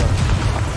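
Confringo spell blast in a Hogwarts video game, a short, steady, low rumbling boom that stays loud and close for under a second, with no voice over it.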